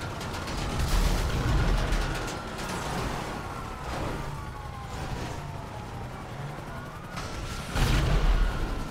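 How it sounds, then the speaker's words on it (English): A tank rolls along in GTA V with steady mechanical rumbling, creaking tracks and clanking. It stays fairly loud and close throughout, with heavier thumps near the start and end. "Look at that tank move, baby!"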